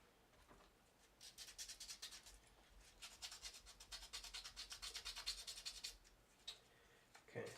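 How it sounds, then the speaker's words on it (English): Sanding of a sculpted miniature, with quiet rhythmic rubbing strokes coming in bursts and pausing between them, faint and close. "this is kind of that last step in the sanding process"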